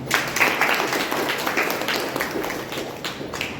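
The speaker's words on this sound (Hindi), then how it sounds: "तालियां" Crowd applause at a political rally in India, a dense, steady patter of many hands clapping at a moderate distance, holding fairly even throughout with no voices standing out.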